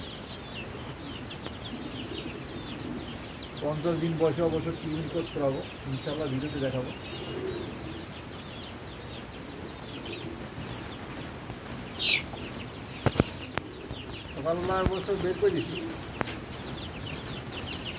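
Farm-raised chicks about 37 to 38 days old cluck and coo softly in a cage nearby, with someone talking over them for most of the time.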